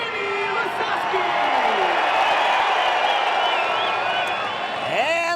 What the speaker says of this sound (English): And the crowd goes wild for this man, the dude.